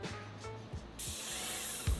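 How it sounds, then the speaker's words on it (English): A steady airy hiss of a paint sprayer with a 515 spray tip kicks in halfway and runs continuously, close and fairly loud, preceded by faint low clunks. "I dialed in the spray pattern on a piece of cardboard"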